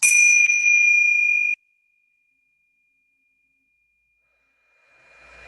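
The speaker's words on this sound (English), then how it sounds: "Now just going to chime the bells in closing." A single bell or chime rings out clear and bright at the close of a group healing session, sustaining a long fading tone for several seconds before near silence, then a faint rustle at the end.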